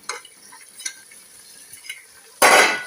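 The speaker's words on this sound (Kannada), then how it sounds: "ಬೇಯಿಸಿ ಇಟ್ಕೊಂಡು ತರಕಾರಿ ಕೂಡ ಹಾಕ್ತಾ ಇದ್ದೀನಿ." Boiled vegetables tipped into a pan of shavige pulav and stirred, giving soft scraping and clinking of a utensil against the pan, then a sudden louder burst of sizzling rustle near the end.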